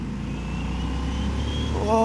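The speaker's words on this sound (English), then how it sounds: "that rear spun up then with a bit of a twist of the throttle going up this hill" A Harley-Davidson Sportster S motorcycle accelerating uphill with its rear wheel briefly spinning: a steady, close engine drone that rises and grows louder toward the end.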